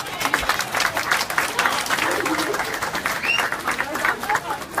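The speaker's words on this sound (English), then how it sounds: "A big round of applause, one more for the girls please." A crowd at the crowning of a Cherry Queen and Charity Queen at a community club applauds, with steady, dense clapping for the whole stretch, with some cheering and voices mixed in.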